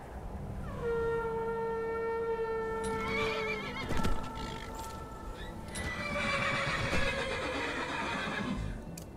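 A horse in the video game Skyrim gives a long, loud, descending whinny, followed by snorting and heavy hooves. A second shorter neigh comes later, with game ambience underneath.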